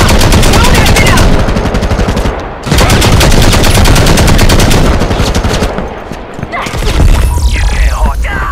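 Rapid automatic gunfire from the mobile shooter Modern Combat Versus in a PVP battle, loud and nearly continuous bursts with a brief gap near the middle, and a voice speaking over the shots toward the end.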